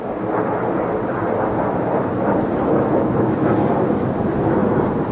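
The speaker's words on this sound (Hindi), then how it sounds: "ये लड़ाकू जहाज मित्रों अभी चौथा चक्कर लगा रहे हैं, सुबह से चौथा चक्कर" Fighter jets pass over a Himalayan valley near the Indo-Tibet border, a loud, continuous rumbling roar that echoes and swells slightly with no talk.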